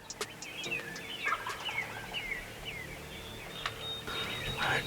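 Turkeys gobble outdoors in a morning setting, several rattling calls scattered across the moment at moderate distance, with no talk over them.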